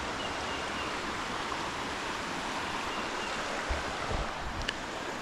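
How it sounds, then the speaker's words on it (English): Continuous rushing water from nearby Rock Creek in the Blue Ridge mountains, a steady broadband wash with a few faint knocks, no voices. "we'll sleep really well with these waters trickling behind us"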